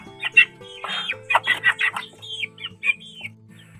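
Chickens in a breeding pen, a quick run of close clucks and short squawks with a faint chirp, fairly loud and without talk.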